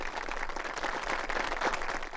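A Punjabi song performance draws a steady wash of audience applause, dense clapping that holds at an even level for a couple of seconds with little else heard.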